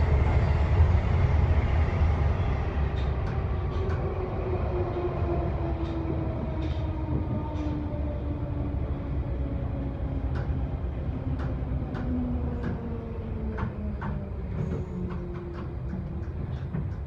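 A London Underground Bakerloo line 1972 stock train rumbles steadily along the track, with rhythmic wheel clicks and a gliding whine that slowly falls in pitch.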